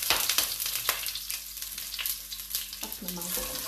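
Hot oil with garlic sizzles loudly and steadily in a heated clay pot on a stove, a dense crackling hiss with a few sharper spatters, no talking.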